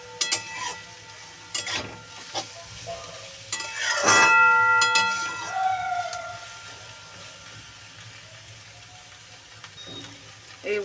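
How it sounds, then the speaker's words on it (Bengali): Shrimp and cabbage ghonto cooking in a pan gives a soft, steady sizzle, broken by scattered clinks and scraping stirs from a spoon, with a louder burst of stirring near the middle. "চিংড়া মাছ দিয়ে বাঁধাকপি এইভাবে ঘন্ট করলে ভালো লাগবে"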